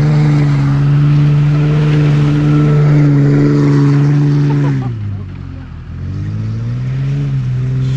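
An old farm truck engine with 500,000 miles drones loud and close, dips suddenly, then revs back up to a steady roar.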